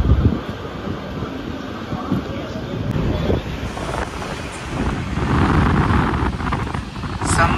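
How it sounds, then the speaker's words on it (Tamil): A special express train pulls out of Mettupalayam station bound for Tirunelveli, its rumble and rail clatter steady and close amid wind noise, swelling louder toward the end. "கரெக்டாக ஷார்ப்பாக வந்து வண்டி வந்து டிபேச்சர் ஆகிடுச்சு மேட்டுப்பாளையத்தில் இருந்து"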